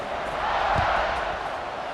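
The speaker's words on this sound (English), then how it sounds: "this crowd is feeling themselves after that last drive" Stadium crowd noise from EA Sports College Football 26, a broad steady roar of fans cheering at a college football game during a kickoff, loud and continuous throughout.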